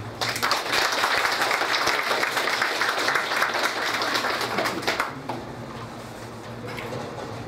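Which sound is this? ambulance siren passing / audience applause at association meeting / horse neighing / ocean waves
audience applause at association meeting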